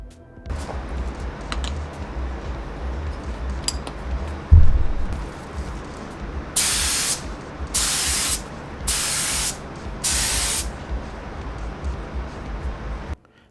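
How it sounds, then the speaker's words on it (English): A spray gun applies 2K clear coat to a car headlight in four even hissing bursts of about a second each, close and loud, after a stretch of low background hum and a single thump. "This is the spray gun setup that I'll be using to apply the 2K clear coat."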